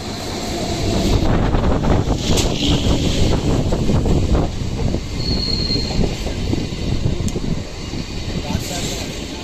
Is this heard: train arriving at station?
yes